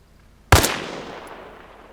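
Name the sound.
sniper rifle gunfire in video game ArmA Reforger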